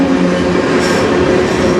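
A CN freight train passes on the Strathroy Subdivision in Sarnia, Ontario, as a loud, close, steady rolling rumble with a high wheel hiss.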